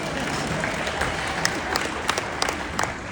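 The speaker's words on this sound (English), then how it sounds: "That was not an enthusiastic applause" Audience applause at the LEX Summit 2024, a steady wash of clapping from a crowd that stays fairly even and modest throughout, with a few sharper claps standing out near the end.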